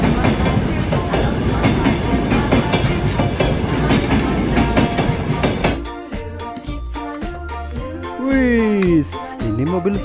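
A loud, continuous rattling rumble of a running toy train, steady and close, with a voice and squeaky tones breaking in near the end.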